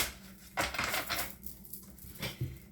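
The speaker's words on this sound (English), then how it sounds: "So let me shuffle them." A deck of cards shuffled by hand during a tarot reading, giving a couple of soft riffling, crunching bursts, quiet and close, with no talk over it.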